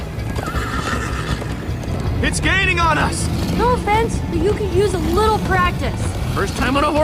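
In Minecraft Story Mode, hooves clip-clop at a steady gallop while a horse neighs loudly several times, with a steady rumble underneath.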